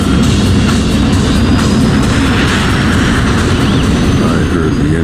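The engines of a Pan Am Boeing 747 on a runway are pushed to full throttle, giving a loud, continuous roar that fills the whole span without a break.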